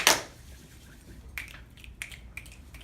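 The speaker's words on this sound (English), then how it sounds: "What power clap would you like? Ooh, firecracker." Seventh-grade students in a classroom do a firecracker power clap, one sharp loud crack followed by a few lighter, scattered snaps and pops.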